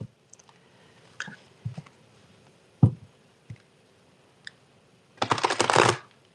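Tarot cards shuffled by hand, a few soft scattered taps and slides followed by a brief dense riffle burst near the end, close and quiet.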